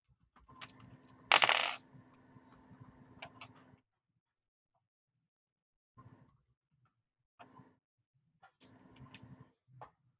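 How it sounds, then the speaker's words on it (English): A twenty-sided die rolled during an online tabletop role-playing game, giving a loud clattering burst near the start and then a few faint, short rattles and ticks with pauses between them. "Thandek, roll a d20."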